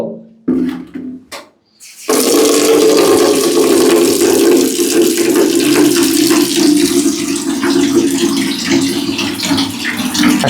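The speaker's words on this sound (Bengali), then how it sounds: "আরে বালতিতে পানি ভরো" Water running from a tap into a bucket in a home washroom: a steady, loud gush that starts after a couple of brief bursts and keeps pouring continuously to the end.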